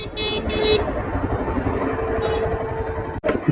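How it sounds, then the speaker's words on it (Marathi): Heavy one-way city traffic heard from a motorbike on the Konkan coast road, with steady engine and road noise and two short car horn toots near the start, another around midway, and a brief disturbance near the end. "खूप मोठी ट्रॅफिक आहे, पण बाईक असल्यामुळे आपण साईडने निघता येतं आपल्याला"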